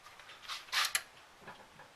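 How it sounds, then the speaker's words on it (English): A Denon AVR-S900W stereo receiver's relay clicks on and off from a suspected internal short, giving a few quiet, sharp close clicks in a short burst against near silence. "and it's clicking on and off."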